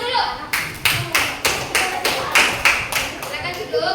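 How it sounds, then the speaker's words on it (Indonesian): Students in a classroom clap their hands in unison on cue, a loud, steady series of about eight to ten sharp claps at an even rhythm. "silakan tepuk tangan dulu"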